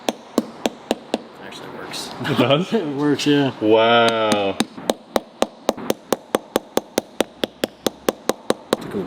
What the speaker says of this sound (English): I wonder if I could just like hammer this in.